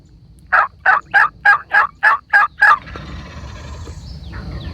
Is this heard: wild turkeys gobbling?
yes